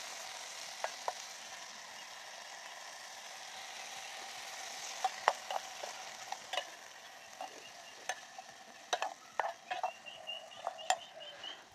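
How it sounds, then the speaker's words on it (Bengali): Potatoes frying on a small handmade clay stove, with a soft steady sizzle under scattered sharp clicks and stirring taps from a utensil, close and fairly quiet, no talking. "এই যে দেখো রান্না আছে আলু ভাজা।"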